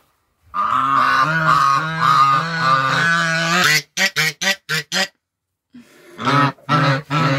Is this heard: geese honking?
yes